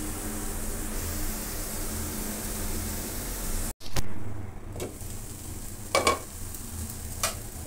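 Vegetables tempered in hot oil for sweet pasta, a steady loud sizzle that cuts out briefly, then returns with stirring clatters and a few spoon knocks.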